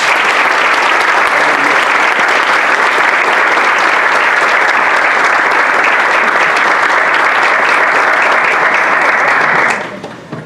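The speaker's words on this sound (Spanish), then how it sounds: "Un fuerte aplauso, por favor" Audience at a panel with former presidents of Ecuador giving loud, dense, sustained applause for about ten seconds before it abruptly fades out.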